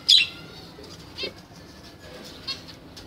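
Zebra finch wings flapping as the bird flies in, a loud close flutter at the start followed by two fainter, shorter wingbeat bursts a second apart, with no talking.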